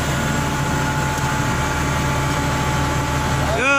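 A diesel motor runs steadily with a low, continuous rumble and a faint hum, loud and close, and a brief rising whine near the end.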